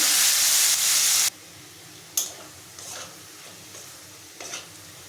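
Onions and whole spices fry in oil and ghee for chicken keema biryani: a loud sizzle cuts off abruptly, then a few scattered scraping stirs sound against the pan over a faint background hiss.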